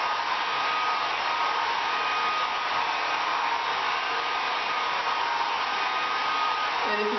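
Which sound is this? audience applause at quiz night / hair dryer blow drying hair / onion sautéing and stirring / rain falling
hair dryer blow drying hair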